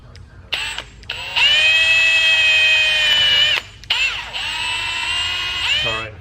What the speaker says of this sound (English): so we drilled it down